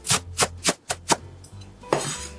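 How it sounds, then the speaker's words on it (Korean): A knife chops garlic chives into short pieces on a cutting board for Korean chive pancakes. Five crisp, evenly spaced chops land close by, followed by a brief scraping rustle. "부추를 이렇게 송송 썰어 주시고요."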